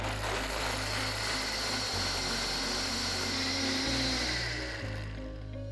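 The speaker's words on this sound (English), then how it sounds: "Now we just have to blend it." A blender runs continuously, loud and steady, blending soaked almonds with four cups of water, its motor whirring and grinding with slight pitch shifts as it churns.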